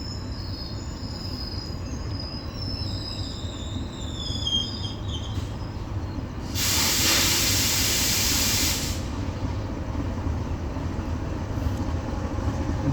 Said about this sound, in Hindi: लाहौर और कराची के दरमियान चलने वाली 32 डाउन जिन्ना एक्सप्रेस, जिसने भिरिया रोड रेलवे स्टेशन को काफी स्लो थ्रो पास किया।